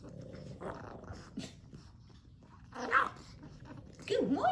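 A tiny French bulldog puppy growls in short, rough bursts, rising louder toward the end, with a voice speaking softly in between.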